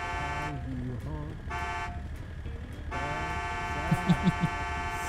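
A loud, sustained multi-tone train horn in the video game GTA 5 blares in long blasts, broken by short gaps, with voices talking over it.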